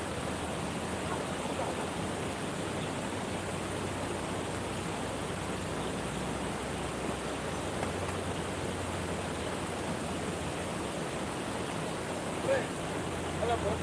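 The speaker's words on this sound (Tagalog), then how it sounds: "Andito kami ngayon sa ilog guys no." A river's flowing water gives a steady broadband rush, constant and close, with no break, while someone talks over it now and then.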